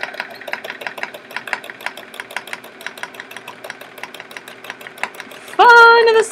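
A sewing machine stitches free motion quilting on a chevron quilt, a close, rapid even rhythm of needle clicks running steadily, ending with a sudden louder tonal burst.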